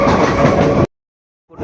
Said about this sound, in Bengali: ঢুকছে ট্রেন